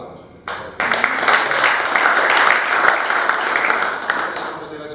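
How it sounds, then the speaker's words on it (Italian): An audience at a 2018 awards ceremony bursts into loud, sustained applause after a brief quieter start, continuing evenly to the end. "Un altro applauso."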